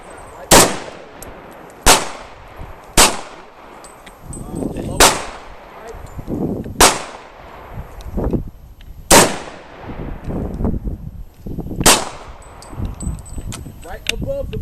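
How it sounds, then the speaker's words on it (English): A Cetme rifle fires a series of about seven sharp, loud shots at irregular intervals outdoors, each followed by a ringing decay, with faint talk and handling noise between shots. "and then fire a couple rounds."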